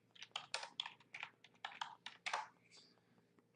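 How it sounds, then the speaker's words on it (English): Fingers tapping on a computer keyboard nearby, a quick run of crisp clicks in small bursts that stop after about three seconds, alone with no talk. "I'm going to type in"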